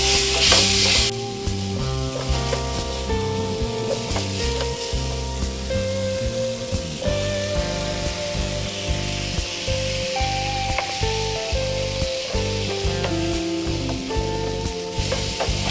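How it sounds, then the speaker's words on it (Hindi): Potatoes go into a hot pan of spices for a potato and capsicum sabji and fry with a steady sizzle while a spoon stirs and scrapes them in repeated clatters, close and loud with no talking. "ये आलू डाल देंगे इसमें।"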